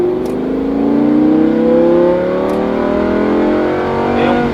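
A Lamborghini Huracan accelerates hard on a race track, its engine note rising in a loud, close, continuous roar that climbs in pitch through the gears.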